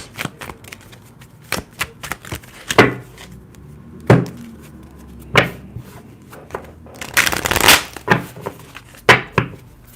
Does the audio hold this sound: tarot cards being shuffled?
yes